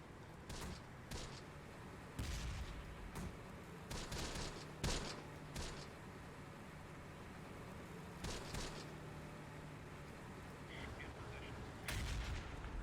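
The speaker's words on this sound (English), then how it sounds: "let the mortars do their work" Scattered mortar rounds thud and crack in the WWII tactics game Close Combat: The Bloody First, with about eight sharp bursts spread unevenly over a low battlefield rumble, fairly quiet overall.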